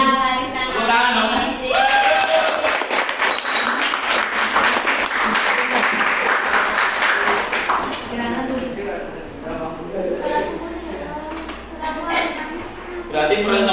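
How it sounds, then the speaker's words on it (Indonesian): A room full of people claps enthusiastically for several seconds, the applause swelling then tapering off, with voices talking before and after. "Tepuk tangan dong."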